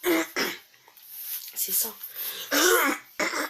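Several harsh coughs and throat clearing in close succession over Bowmaster gameplay, with a few short spoken words between the bursts.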